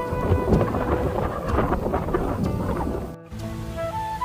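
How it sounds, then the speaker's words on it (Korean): Strong wind roaring outdoors by a stream, a loud continuous buffeting rush with gusty surges that briefly cuts out near the end before resuming. "바람이 미쳤다."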